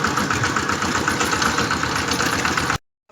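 A steady, rumbling tractor engine runs at a constant idle-like pace, loud and close, then cuts off abruptly into silence near the end.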